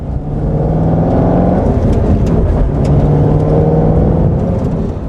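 A 2017 Aston Martin Vantage GT8 with its uprated engine revving, a loud, steady, close engine drone with rising harmonic tones, sustained throughout without speech.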